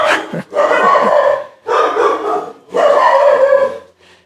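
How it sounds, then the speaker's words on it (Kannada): Several dogs bark loudly nearby in three long bursts of overlapping barks and yips, with short pauses between them. "ಹಿಂದೆ ಬ್ಲ್ಯಾಕಿ ಎಲ್ಲ ನಾಯಿಗಳು ಕುಂತ್ಕೊಳ್ಳೋಕೆ ಚೆನ್ನಾಗಿರೋದು"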